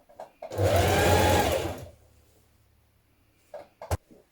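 A sewing machine stitches a double fold hem on a fitted dress in one steady burst of about a second and a half, close and loud, followed by quiet and a few brief handling clicks.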